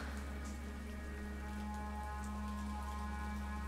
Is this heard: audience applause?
no